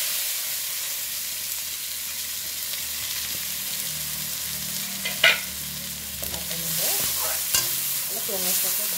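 Onions and nigella seeds frying in hot oil, with a steady close sizzle and occasional stirring scrapes and clinks of a spoon against the pan, no talking.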